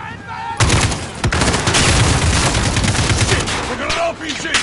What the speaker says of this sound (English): If I remember, there's a bit more shooting here.